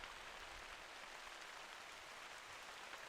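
Steady rain patters continuously in the hunting video game theHunter: Call of the Wild, a soft, even hiss of drops on surfaces, faint and unbroken with no voices.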